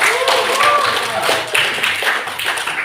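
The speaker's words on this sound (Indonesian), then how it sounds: "berikan aplaus dulu untuk teman Anda" Classmates give a round of applause for a fellow student in a classroom, a steady crowd of clapping hands at moderate loudness for a few seconds, with some voices underneath.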